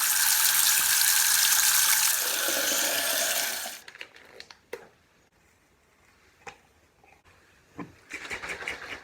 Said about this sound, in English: me filling the bottle with water and adding this in